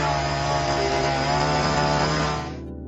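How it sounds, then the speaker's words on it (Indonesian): A saw cuts steadily into a tree trunk in a film scene, with a continuous rasping drone that holds for nearly three seconds before easing off. It is close and loud, with no speech. "Meski demikian, ia mulai menebang pohon itu."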